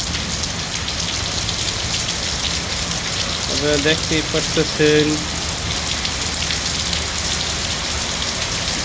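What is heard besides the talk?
heavy rain falling on Dhaka streets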